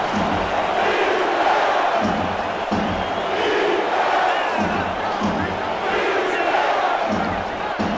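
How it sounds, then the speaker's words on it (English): A football stadium crowd at a Baltimore at Orlando game chants defense on third down, a broad roaring swell that rises and falls in a steady rhythm and fills the whole stretch. "Crowd chanting defense."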